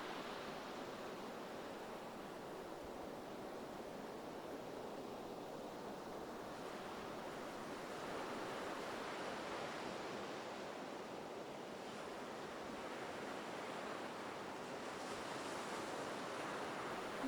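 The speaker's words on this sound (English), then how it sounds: "enjoying the sound of the waves" Ocean surf on Matagorda Beach, a steady broadband wash of waves rolling in and breaking, continuous and fairly soft with gentle swells in intensity and no voices.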